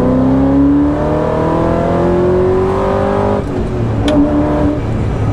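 A Ford GT mid-engine sports car accelerates hard, its engine and exhaust loud and close with a steadily rising pitch, briefly dropping off before pulling again.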